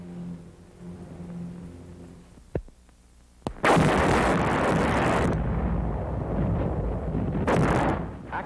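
Artillery fire from a World War II battle near San Pietro: a couple of sharp isolated thuds give way to a long, loud roaring barrage with heavy rumble, then a brief pause before another burst.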